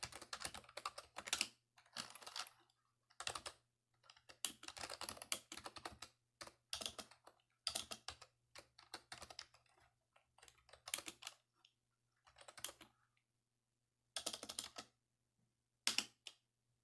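Bursts of keystrokes on a computer keyboard at a Debian workstation, quick clusters of clicks separated by short silences, close and fairly quiet over a faint steady hum.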